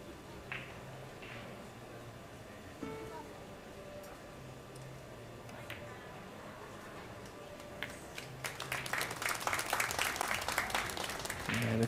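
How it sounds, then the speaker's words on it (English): Spectators applaud at a women's pool semi-final, with scattered faint claps and ball clicks before a loud burst of crowd clapping swells near the end and continues. "Crowd clapping"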